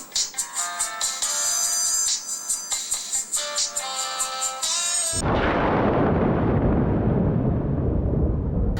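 A phone ringtone sounds in a Bengali TV serial drama, repeating in a bright, rhythmic melodic pattern for about five seconds before a loud, booming dramatic whoosh abruptly takes over.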